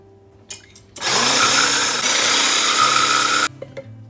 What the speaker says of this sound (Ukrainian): Окремо збиваємо два яйця додаємо молоко, трошечки солі.